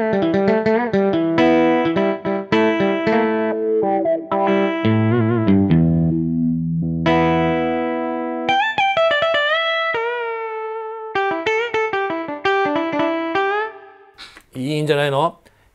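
Clean electric guitar patch on a Korg Krome keyboard, with a spacious twin reverb tail, single notes and chords played in a steady melodic run, close and clear.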